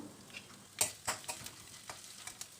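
Dried chillies, curry leaves and chopped ginger frying in oil, a quiet crackling sizzle with a few sharp pops and light stirring taps close by.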